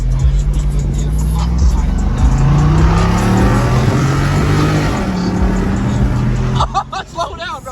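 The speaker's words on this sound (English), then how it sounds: "We got a little distracted driving that 392 for a little" A Jeep with a 392 engine roars while driving and revving, a loud, close, continuous engine note rising and falling, before easing off near the end.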